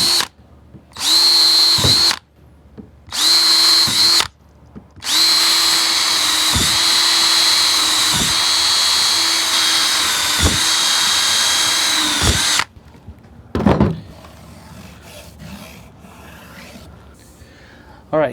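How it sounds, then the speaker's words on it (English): A power drill bores a series of holes along a marked line in a patio pond bog filter build, loud whining bursts of several seconds each separated by short pauses, then quieter handling noises. "I'm just going to drill a hole all the way down this line"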